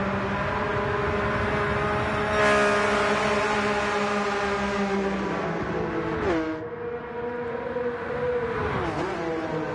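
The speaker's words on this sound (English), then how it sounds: "now we are in the Porsche 992" A Porsche 992 race car engine in Gran Turismo drones loudly and steadily, its pitch dipping and climbing through gear changes, with no talk over it.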